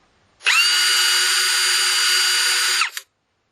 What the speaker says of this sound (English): the rigid drill is the loudest, and it's got high pitch noise to it